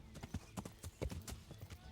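Horse hooves galloping in the video game Kingdom Come: Deliverance, a rapid, uneven clatter of hoofbeats heard fairly quietly throughout.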